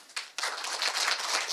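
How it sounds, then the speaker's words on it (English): A short burst of audience applause at a ceremonial bill signing, starting abruptly and swelling into steady clapping from a small crowd. "I'll take the applause"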